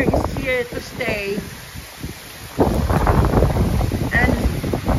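Gusty wind blows outdoors on a cold, windy day, a broad rushing roar buffeting the microphone that swells louder partway through, with a person talking over it.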